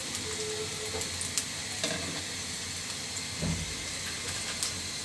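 Whole cumin seeds sizzle in hot oil in a pan, a steady, even crackling hiss that holds throughout, close up, with no talking.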